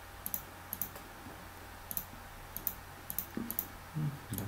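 Mouse clicks on a computer, sharp isolated taps repeating about every half second, close and fairly quiet over a low steady room hum.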